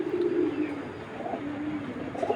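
Domestic pigeons of imported fancy breeds coo in a loft, a soft low throaty warble running steadily and fairly close.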